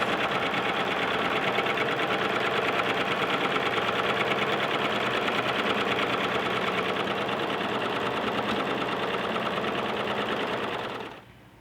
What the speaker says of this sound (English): It's a serger overlock machine.